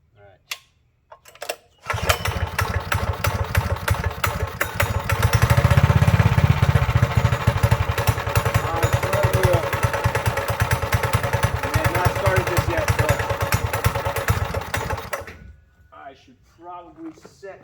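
A Manco Dingo go-kart engine starts and runs steadily at idle for most of the stretch, a loud, dense mechanical putter with a brief surge partway through, then cuts off near the end.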